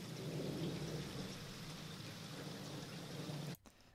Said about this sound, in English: It has some rain falling on a window and it just sounds like this.